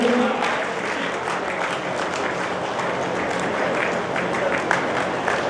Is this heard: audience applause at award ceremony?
yes